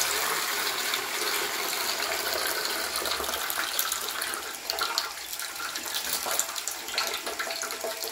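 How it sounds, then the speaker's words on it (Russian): Water runs and drains steadily while rice is rinsed for a Central Asian lamb pilaf, a continuous splashing gush with small surges throughout. "Его надо мыть, промывать до тех пор, пока вода будет чистая."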